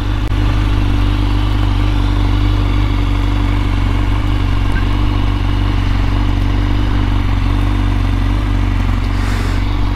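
Honda CBR1000RR-R Fireblade SP sportbike idling outdoors, a steady low engine rumble with constant mechanical clatter, loud and close throughout with no talk.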